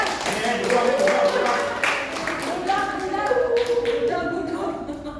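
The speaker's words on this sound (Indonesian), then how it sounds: "Tepuk tangan Singaraja." An audience from Singaraja at an event about people with disabilities claps enthusiastically. The close, lively clapping runs for about five seconds, mixed with voices calling out.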